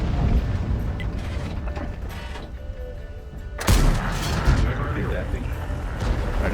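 A tank gun fires in the World of Tanks video game: a sudden heavy boom midway through, followed by rumbling mechanical clatter, with a mechanical whir running beforehand.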